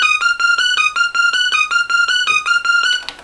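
Electronic dubstep beat with a bright, bell-like lead synth repeating a short melodic riff over steady hard-hitting drums, loud and close, with no voices until it cuts off near the end.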